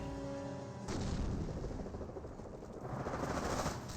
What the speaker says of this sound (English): Mortars raining on in.